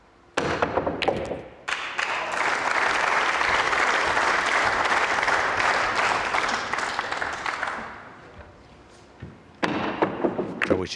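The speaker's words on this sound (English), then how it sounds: "It's always a shot that generates a lot of applause from the crowd." A crowd at a 2015 World Cup of Pool quarter final between Finland and England B bursts into sustained, loud applause that runs for several seconds, then fades before a fresh burst of clapping near the end.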